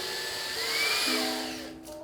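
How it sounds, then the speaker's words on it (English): Xiaomi Mijia portable vacuum cleaner suctioning, a steady close whine with a shifting pitch that steps down partway through, running alone without talk. "As you guys can see, when you suction, it does open up a bit."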